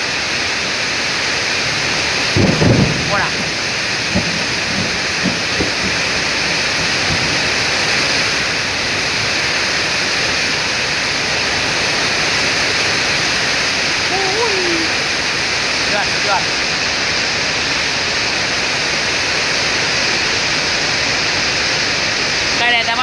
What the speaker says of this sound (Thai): มีแต่ฝนไม่มีลม